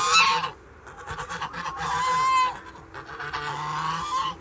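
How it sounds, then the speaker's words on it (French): Loud honking from a gander, repeated harsh calls in bursts close by, with some low rumbling noise underneath. "Le jar est pas content."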